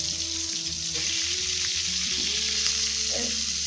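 Pointed gourd (potol) slices fry in oil, a continuous close crackling sizzle with a low steady hum beneath it.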